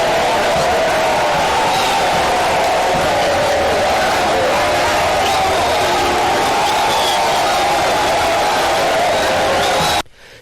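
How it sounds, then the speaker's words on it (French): A dense crowd outside the airport in Kipushi greeting President Félix Tshisekedi and the first lady: loud, continuous roaring and cheering with whoops and shouting voices mixed in, then a sudden cut near the end. "un bain de foule a été offert au couple présidentiel au sortir des installations aéroportuaires"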